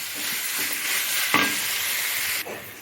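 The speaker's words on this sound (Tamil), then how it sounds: "அப்போ நம்ம சாப்பாடு போட்டு கிளறி விடணும்" Cooked rice being stirred into sautéed raw mango in a hot pan for mango rice, a continuous sizzle with scraping spoon strokes and a sharper clink near the middle, no voices.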